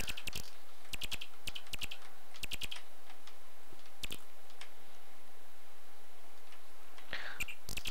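Clattery keystrokes on a ZX Spectrum computer keyboard come in short irregular bursts of taps with pauses between, close and fairly quiet over a low steady hum.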